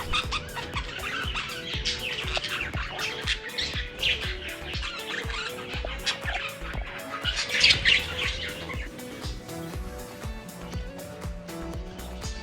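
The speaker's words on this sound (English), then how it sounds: "the birds were chirping away and having a little fun" Birds chirp busily near an artisanal cheese and wine place at San Marcos La Laguna on Lake Atitlan, with dense, continuous tweets and calls over a faint background hum.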